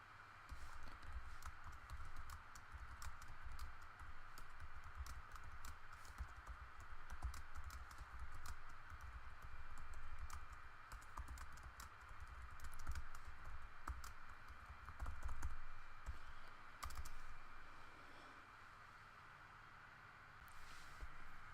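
Typing on a computer keyboard while writing a forum prompt: steady, fast key clatter runs throughout, quiet and close, over a low hum, with no talk.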